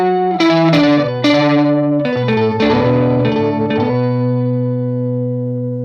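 An electric guitar runs through a worship pedalboard with drive and octave effects, playing a few loud, dirty chords and single notes with chorus-like shimmer, then letting a final chord ring and fade slowly.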